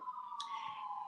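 A faint, distant emergency siren holds a steady wailing tone that drifts slightly lower, with a brief click partway through and no voices.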